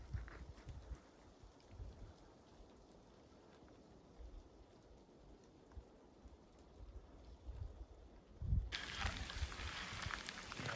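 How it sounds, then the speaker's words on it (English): Steady rain shower falling on a hiking trail near Taggart Lake in Grand Teton National Park, a soft continuous patter with faint low rumbles, growing louder and brighter near the end. "So the rain's coming down just a little bit harder."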